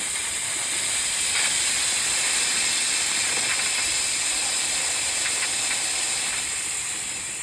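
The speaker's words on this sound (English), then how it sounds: "I'm going to vent the jacket, leave this valve open" Steam venting through an open valve from the jacket of a brewing kettle after the boil, a loud, steady, close hiss that holds constant throughout with a few faint clicks.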